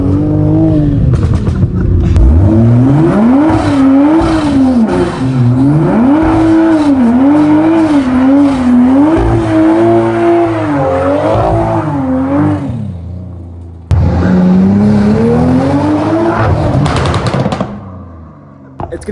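A 500bhp Toyota Supra's engine revving hard, loud and close, rising and falling through repeated surges for about twelve seconds, a brief cut, then another sharp climbing rev before it drops off.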